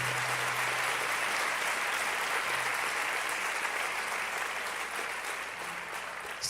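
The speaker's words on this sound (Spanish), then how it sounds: "Dale un aplauso a Dios que tiene poder" Church congregation clapping for God during a sermon, dense sustained applause filling the room at steady loudness, a faint low hum beneath and no clear talk.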